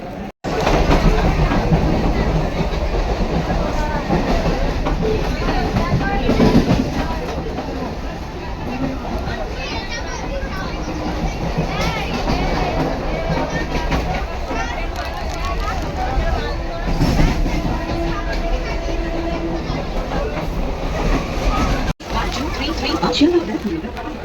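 A crowded commuter train on the Dum Dum line in Kolkata rumbles past nearby, its steady heavy roar and rattle running throughout, with a crowd chattering underneath.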